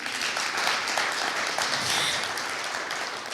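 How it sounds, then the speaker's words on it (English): Applause from the crowd at a talkback event featuring Black Milwaukee businesses, sustained, even clapping from many hands that fills the room, fairly loud, with no speech heard over it. "We'll be clapping up for him."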